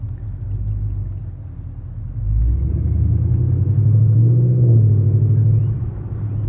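Deep, steady V8 rumble from a modified 2017 Chevrolet Camaro SS convertible, heard from inside while driving, swelling louder and fuller as the engine pulls, then easing back, with no talking.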